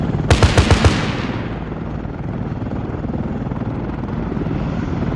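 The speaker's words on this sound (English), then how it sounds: "Okay, I'm firing a bit long." A rapid burst of five loud weapon shots fired in Arma 3 rings out near the start, then gives way to a steady low rumble with no talking.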